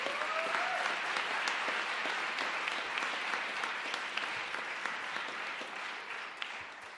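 An audience at a university jazz combo concert applauds the drummer during band introductions, a thick, continuous patter of clapping with a few sharper individual claps, slowly easing off toward the end.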